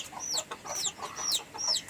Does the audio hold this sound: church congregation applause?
no